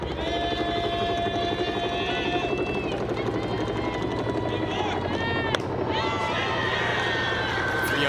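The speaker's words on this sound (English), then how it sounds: "The helicopter's right over us now." A helicopter passes low overhead at a college softball game between Clemson and Minnesota, its heavy rotor thump steady and loud throughout, with crowd noise and an announcer talking over it.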